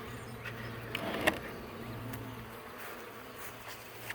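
A package of honey bees hums with a steady, close buzzing drone that holds throughout, with a few brief louder passes of individual bees near the listener.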